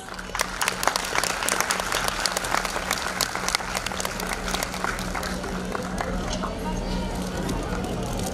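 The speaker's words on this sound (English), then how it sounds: "please can we have a huge round of applause?" A crowd applauds steadily with dense clapping throughout, fairly close, and a few voices murmur underneath.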